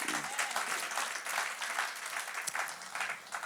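Church congregation applauding in acclamation of God during a worship service, a dense, steady wash of clapping from many hands that holds evenly for a few seconds with no talk over it.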